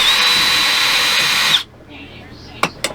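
A power drill whirs steadily while backing screws out of an air conditioning unit, then cuts off abruptly, followed by a quiet pause and two sharp clicks.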